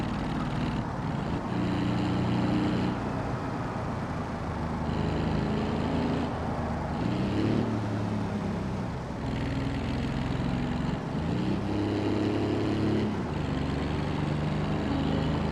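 A small Autobello Piccolina in a driving game hums along steadily, its engine droning continuously with shifting tone as it cruises over Polish roads, loud and close with no talk.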